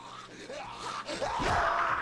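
A character in the zombie video game Dead Island Riptide screams in a rising, strained yell that grows louder toward the end, mixed with rough game noise and no clear speech.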